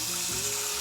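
A splash of water is poured into a cooking pan holding lentils, vegetables and rice, a short, steady hissing rush of liquid with a faint sizzle, close and alone.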